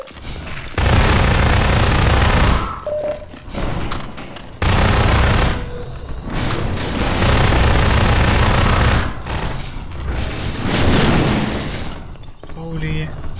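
SMG fire from the Half-Life 2 mod DefendVille comes as long, loud automatic bursts separated by brief pauses, with voices talking over the shooting.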